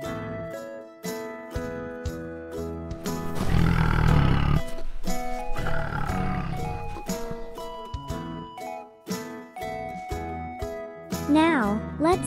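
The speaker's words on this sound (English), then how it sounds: "Say hello to Tiger, the majestic jungle prowler." A tiger gives a loud, rough roar lasting a couple of seconds, followed by a fainter rumbling growl, all set against a steady background of bright musical notes and chimes.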